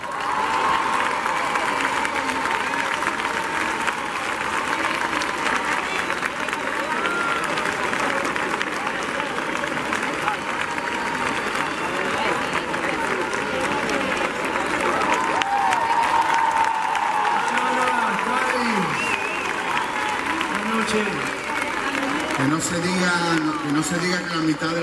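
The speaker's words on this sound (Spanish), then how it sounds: "Quiero que le reciban con el aplauso ese que ustedes saben" Concert audience applauding and cheering for a singer on stage with another singer, a dense, steady roar of clapping and crowd noise lasting throughout, with a host's voice speaking over it.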